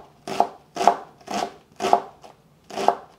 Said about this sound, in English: I'm just going to cut this or chop this into small pieces